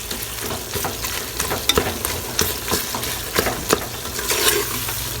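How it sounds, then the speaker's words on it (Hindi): Chicken curry masala with onions sizzles steadily in a pan while a spoon scrapes and stirs it in repeated close strokes, with no talking. "अब इसको हम भूनेंगे और जो भूनते जाएंगे तो इसका जो है मसाला बिल्कुल नरम होता जाएगा"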